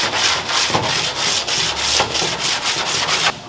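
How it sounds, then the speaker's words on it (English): Sandpaper wrapped on a 2x4 block rasps over a car quarter panel in steady back-and-forth strokes, close and loud, roughly seven passes with a brief pause before the end. "Put some sandpaper on it and watch this."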